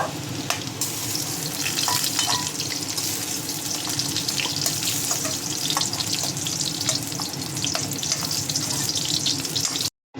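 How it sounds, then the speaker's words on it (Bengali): Whole garam masala and bay leaves tempering in hot oil in a pan where potato and elephant foot yam were just fried, a steady close, loud sizzle running throughout with faint clinks, no talking. "গরম মশলা তেজপাতা ফোড়ন দিয়ে দেবো"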